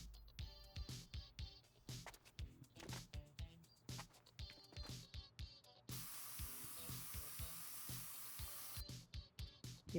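Continuous airy hiss of a spray paint nozzle from Spray Paint Simulator, a steady blast lasting several seconds between stretches of busier clicking game sounds.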